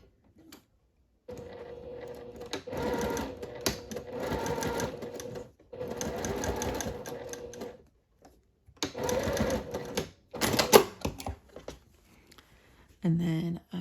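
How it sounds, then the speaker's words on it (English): A sewing machine stitches along the hem edge of a placket on a Fourth of July top, running in several close, steady bursts with short pauses between them. "I'm going to sew right at that hem edge"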